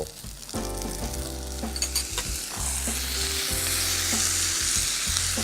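Linguine tossed with minced pork and holy basil in a hot pan, loud sizzling frying under repeated scraping and stirring strokes, with a rhythmic series of clanks and thumps from the utensil against the pan.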